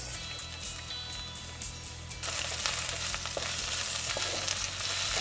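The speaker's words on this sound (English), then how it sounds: "Now I'll be adding my onions." Chopped onions drop into a pan of hot oil with ginger and garlic for a fish curry. A moderate sizzle swells into a louder, fuller hiss partway through and stays steady.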